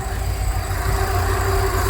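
A repaired campervan engine idling steadily up close, a low constant rumble with a faint tonal hum, brief and even with no speech.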